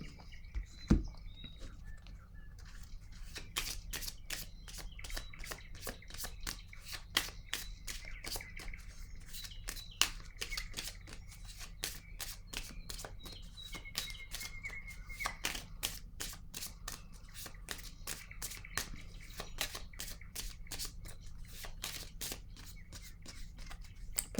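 Tarot-style cards being drawn and shuffled for a reading, a long steady run of crisp riffling flicks and soft slaps, close and quiet, with no talking.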